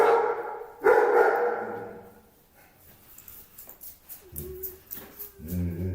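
A dog barks a few times, sharp and close, followed by softer whimpering and yipping noises.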